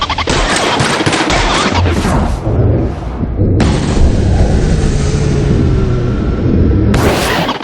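Rapid gunfire in the video game The Outer Worlds, loud sustained bursts of automatic shots with booming impacts, a brief lull, then another volley, close and intense.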